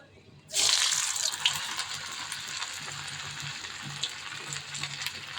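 Chicken dropped into hot oil, starting with an abrupt loud sizzle that settles into a steady bubbling hiss of deep-frying, close by and continuous.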